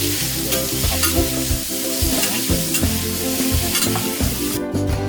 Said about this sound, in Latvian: tagad mēs to visu cepsim